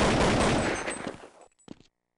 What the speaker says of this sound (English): quick Simphis frags here